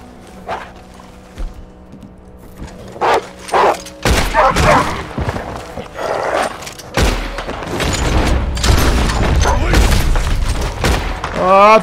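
Several loud gunshot booms ring out in Red Dead Redemption 2 amid dogs or wolves barking and growling, with someone talking over the action.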